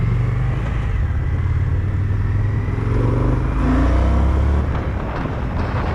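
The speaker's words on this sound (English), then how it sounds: "I'll kind of snap the throttle a little bit. Just watch that speedometer and see how quick it builds." A 2020 Indian FTR 1200 motorcycle roars as the throttle is snapped open, rising in pitch as the bike accelerates, loud and close with heavy wind rush.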